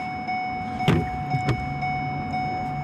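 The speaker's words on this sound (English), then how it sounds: "I don't understand why it's making that beeping noise." Car door-open warning chime on a parked car, a continuous steady electronic tone held throughout, with a couple of brief knocks or thumps partway through and no talking.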